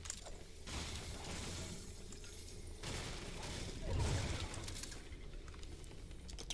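Distant gunfire in the Fortnite video game: a few muffled, crackling bursts spaced seconds apart, rising from a steady rumbling background with no talk over them.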